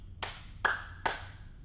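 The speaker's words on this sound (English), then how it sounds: "What is the point of the clap again?" Three sharp, evenly spaced hand claps ring out close and alone as a cue, each with a short bright ring after it.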